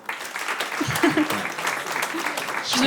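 A comedy club audience claps to vote for a contestant, a moderate burst of crowd applause with voices and cheers mixed in, swelling louder toward the end.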